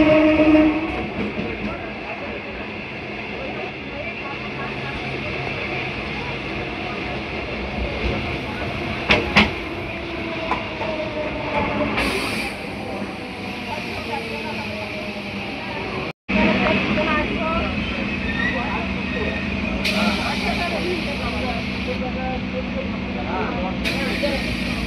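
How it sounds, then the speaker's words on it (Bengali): A Sealdah–Canning local train pulls into Park Circus station with a loud, steady rumble of wheels and carriages, brief horn-like bursts rising over the din, and indistinct voices in the background. "আমাদের ট্রেন এসে পৌঁছালো তার প্রথম হল্ট পার্ক সার্কাস স্টেশন"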